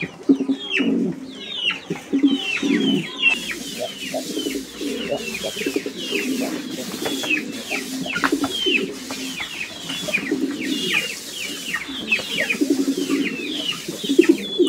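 Pigeons coo again and again, close and fairly loud, at a busy pigeon sale with many birds calling together, while people talk now and then in the background.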